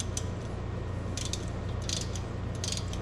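Ratchet with a 14mm socket tightening a Brembo brake caliper bolt on a 2014 Lexus GS 350, giving rapid repeated metallic clicks in short bursts over a low steady hum, close and clear.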